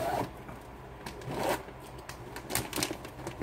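Crinkly plastic rustling with short scratchy bursts as a zipper on a plastic bag holding yarn is pulled open, close to the microphone.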